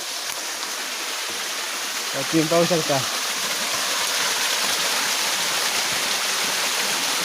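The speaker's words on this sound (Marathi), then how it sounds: "तिथे बघा सुंदर धबधबा, असा निसर्गरम्य असा धबधबा आहे इथे" A small waterfall in the Konkan countryside gives a steady broadband rush of falling water throughout, with a person speaking briefly over it.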